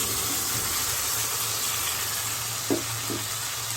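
A mixture of potato, tomato, chana and green chili fries in a pan with a bright, continuous sizzle, with a couple of soft stirring knocks near the end.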